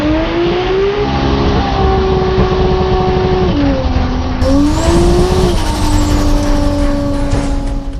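Toyota Supra drag race car making a pass at Royal Purple, its engine loud and close with a held rising drone, brief dips at gear changes, then climbing again.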